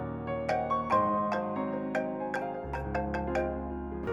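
A phone rings at night with a melodic electronic ringtone, a steady repeating pattern of bright chiming notes over a sustained backing, loud and close with no talking.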